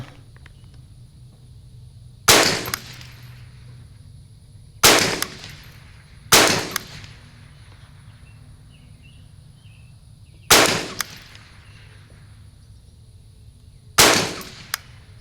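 Five sharp shots from a Savage 64 takedown survival rifle ring out one at a time, each loud crack followed by a short decay, spaced irregularly a few seconds apart against a quiet background.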